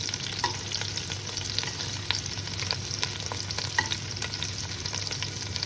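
Prawns frying in a pan with garlic for a Greek wine-sauce dish, a steady close sizzle with scattered crackles and pops, stirred or shifted as the pan comes off the heat.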